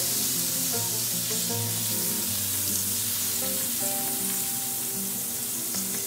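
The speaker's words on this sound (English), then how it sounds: "I'm going to start with about half a stick of butter. Melt that down." Half a stick of butter melting in a hot pan for candied pecans, a steady soft sizzle and bubbling hiss, close by, under faint background music.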